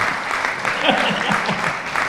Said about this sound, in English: A big round of applause, please, for Brian Travis and Johnny Hustley